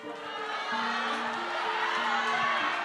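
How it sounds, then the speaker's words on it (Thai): An audience at a Thai classroom-style event cheers and applauds for Kooka, a steady crowd roar with shouts and voices blending together, moderately loud throughout. "ขอเสียงปรบมืออีกรอบกับคูก้า"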